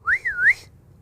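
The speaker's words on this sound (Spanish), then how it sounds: "escuchar un silbido producido por ordenador" A computer-generated whistle made for dolphins rises, dips and rises again in one smooth, pure-toned sweep lasting about half a second, clear and alone against near silence.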